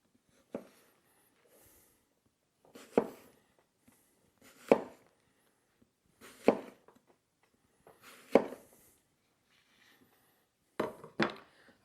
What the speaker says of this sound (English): I'm going to cut that apple in half, and I'm just going to cut slices on it.